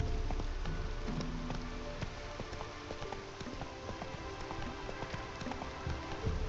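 Horse galloping in Witcher 3, producing a continuous patter of hoofbeats against a noisy, rain-like background, moderately faint and with no talking.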